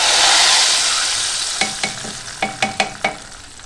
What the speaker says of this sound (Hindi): देखिए प्याज जो है ना मेरा ब्राउन होने वाला है, तो अब मैं शामिल कर दूँगी इसके अंदर राई दाना और साबुत गोल लाल मिर्च